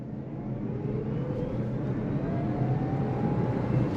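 A 2023 Kia Niro EV, the 201-horsepower electric model in sport mode, accelerates under throttle; a steady road and tire roar swells gradually while a faint motor whine rises in pitch, with no talk.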